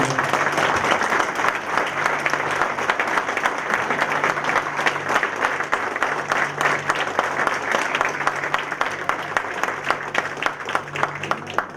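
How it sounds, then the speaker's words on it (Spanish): An audience at a union and political training session gives the band sustained applause, with dense, steady clapping throughout and no pause. "les pido un fuerte aplauso a la banda"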